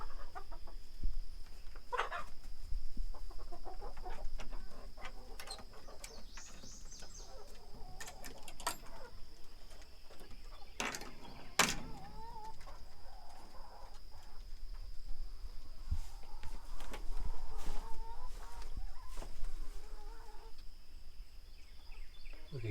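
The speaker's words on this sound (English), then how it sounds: "Right here with the chickens" Chickens clucking softly and intermittently in a backyard coop as the hens are let out in the morning, with scattered clucks and occasional sharper calls over steady low background noise.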